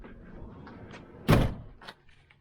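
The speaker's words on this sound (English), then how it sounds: "because what it does when I shut the door" A campervan door is shut once with a single loud, solid thud, preceded by faint handling noises and followed by quiet, nearby and alone.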